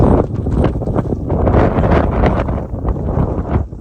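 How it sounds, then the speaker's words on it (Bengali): Strong wind roars during a snowstorm in Canada, a loud, continuous gusting rush that buffets the microphone with rough, uneven surges throughout. "প্রচুর বাতাস"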